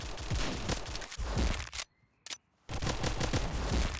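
Rapid pistol shots ring out in a mobile shooter game, dense bursts of loud gunfire that stop briefly for a single shot and then resume, with no talking.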